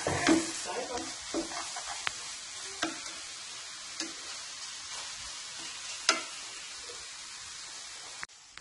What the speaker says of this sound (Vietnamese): giờ mình xà, mình chiên lên sườn non.